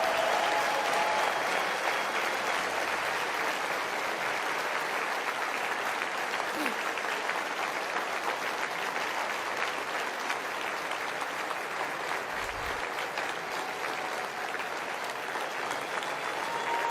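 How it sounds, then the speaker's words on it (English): An audience at the CPAC conference gives a sustained round of applause, dense steady clapping from a large crowd lasting throughout, with no speech over it. "give her a round of applause anyway."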